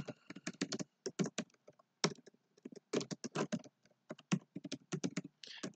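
Fingers type on a computer keyboard in quick, irregular bursts of crisp clicks, with short pauses between runs of keystrokes, close and fairly quiet, with no voices.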